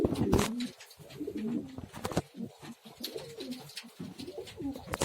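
An ornamental pigeon coos close by in a series of low, rolling calls that repeat with short gaps, with faint background noise between them.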